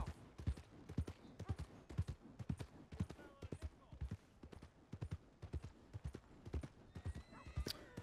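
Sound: horse hooves clip-clopping in video game

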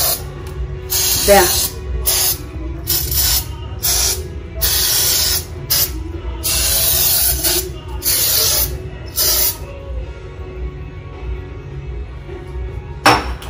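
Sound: insecticide spray sprayed on cockroaches

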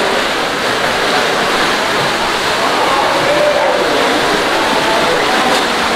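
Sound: water from geyser running down to feed pool

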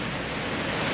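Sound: waves surging during a typhoon

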